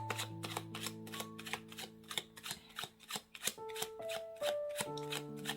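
Tarot cards are shuffled and drawn close up in a steady run of crisp riffling slaps and flicks, with soft background music underneath and no talking.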